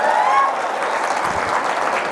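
An audience at a speech in Loha, Nanded claps loudly for about two seconds, a dense, continuous burst of applause with a faint voice underneath.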